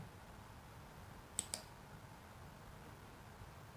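Two quick computer mouse clicks in close succession, crisp and near, over a faint steady room hiss with no other activity.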